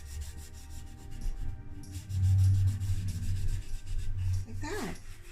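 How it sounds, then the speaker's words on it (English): Coconut oil rubbed by hand into a resin charcuterie board set with amethyst stones, a steady close rasping friction that swells and fades in continuous strokes for several seconds, with a brief squeak near the end and no talk. "Just rub it all in."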